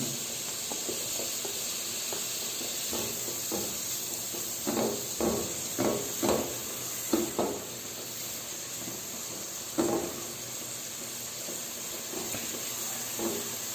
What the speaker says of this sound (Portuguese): já derretida a manteiga, eu vou acrescentar cebola cortada em brunoise